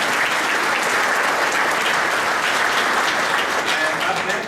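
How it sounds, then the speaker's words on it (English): Applause from an audience at the Silicon Valley Innovation Summit: a continuous, full wash of many hands clapping at an even level throughout, with no break or fade. "if we could first give a round of applause to"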